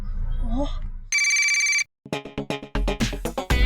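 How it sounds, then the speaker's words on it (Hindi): After a moment of voices, a phone ringtone sounds as a steady electronic tone for under a second, then cuts off and gives way to loud, lively background music and effects. "अरे मेरा मतलब है मोंटू बॉस को फोन लगा।"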